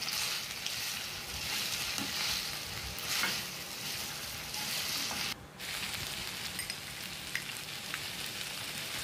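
Large-cut Bombay onions frying with pork in a pan, a steady close sizzle with faint scraping and a short dip in the middle, no voices.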